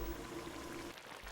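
Soaked basmati rice pours into a pot of boiling water with a brief, faint rushing patter, softly over a low background.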